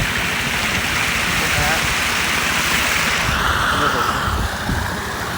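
Steady, loud rushing irrigation water in a date palm orchard, a continuous broad wash like a strong flow through a channel, close up with no pauses.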